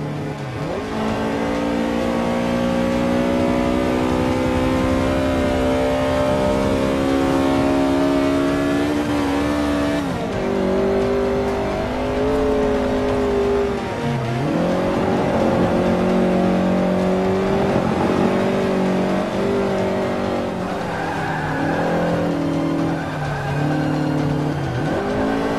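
Racing game engine of a Mini driven hard in Forza, a loud continuous revving drone with pitch rising and dropping through gear changes, plus tire squeal and skidding as the car loses traction, with no talking.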